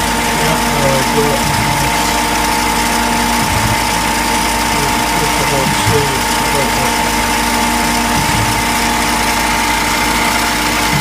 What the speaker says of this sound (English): I'm about to chamfer the part, having just spaced the end